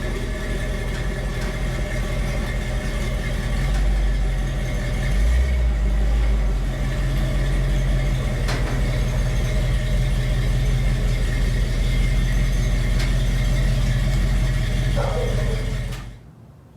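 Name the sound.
1970 Ford F250 truck engine running while backing up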